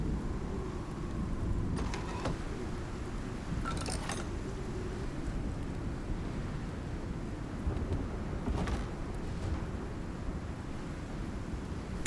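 Thunderstorm in the survival video game Icarus, a steady broad rumble of rain and thunder with a few brief sharper cracks, constant in level and with no voices.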